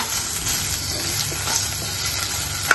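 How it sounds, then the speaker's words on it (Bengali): Paneer cubes fry lightly in oil in a pan, giving a steady, close crackling sizzle with a few sharp pops. "তো সেই জন্যই আমি হালকা ফ্রাই করছি"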